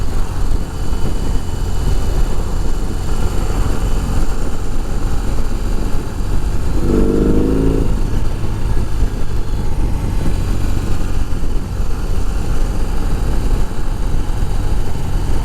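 Motorcycle engine on a short test ride, a loud steady drone running continuously for about fifteen seconds with a brief rise in pitch midway, no talking over it.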